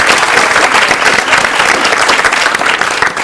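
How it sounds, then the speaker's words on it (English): An audience at a televised women's event breaks into loud, sustained applause, a dense wash of clapping hands that stays steady and close throughout, with no talking over it. "Big applause"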